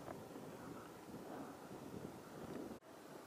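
Steady broadband wind buffeting an outdoor microphone on a hillside, a continuous loud rumble with no pauses and one brief dropout near the end.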